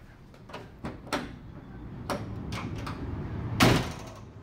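Door of a VW Brasilia worked with a newly fitted handle: several faint clicks and latch clacks over low background noise, ending with a louder close clunk.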